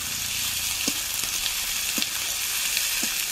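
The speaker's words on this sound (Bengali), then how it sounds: "আদা বাটা, রসুন বাটা, আদা ও রসুনটা কিছুক্ষণ কষে নেব।" Ginger and garlic paste being sautéed in a pan, a steady close sizzle of frying with a few soft scrapes of stirring at intervals, no talk.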